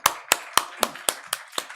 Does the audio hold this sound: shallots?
no